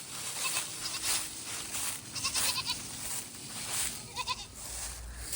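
Baby goats in their pen bleat repeatedly, several overlapping cries rising over a busy outdoor background of insect buzz and rustling.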